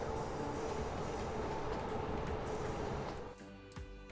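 An S-Bahn commuter train runs in the railway simulation game Train Fever, giving a steady rumbling rail roar with rhythmic clatter that fades in the last second, no speech over it.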